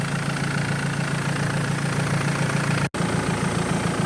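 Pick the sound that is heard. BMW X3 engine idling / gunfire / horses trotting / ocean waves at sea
BMW X3 engine idling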